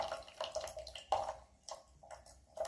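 Hot water splashes over loose leaves of spring Yiwu Gaoshan Gushu tea for a quick rinse, a close series of short pouring bursts and drips with quiet pauses between them.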